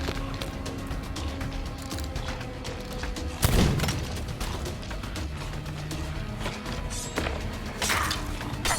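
Gunfire and thumping blasts from a battle against skeletons during a final boss round in the pirate video game Sea of Thieves, with a dense, steady din and a couple of louder bursts partway through.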